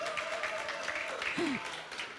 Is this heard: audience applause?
yes